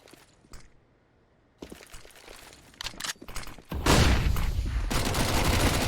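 MAC-10 submachine gun fire in a Counter-Strike match on the Vertigo map, a competitive esports game: scattered shots and clicks build into dense, loud rapid bursts of automatic fire that continue to the end, with no talking.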